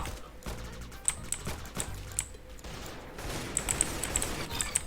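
Rapid gunfire from the Roblox shooter Arsenal crackles in quick bursts over a steady background hum, with sharp shot peaks scattered throughout.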